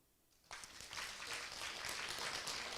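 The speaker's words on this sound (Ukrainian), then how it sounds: "Аплодуйте, будь ласка, жінки, в яких є права." An audience breaks into applause after a brief silence, a dense wash of clapping from many hands that holds steady and fairly loud until the end.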